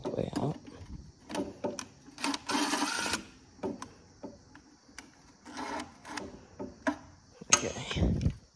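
Rapid bursts of ratchet clicking from a wrench loosening the bolts on a Honda 400ex ATV's oil filter cover, in short irregular spurts with pauses, close and fairly quiet.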